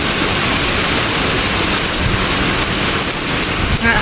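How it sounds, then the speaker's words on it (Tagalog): Heavy rain pouring down in Singapore, a loud, unbroken hiss of water striking surfaces close by, steady throughout with a faint low rumble beneath. "Grabe, malakas ang ulan."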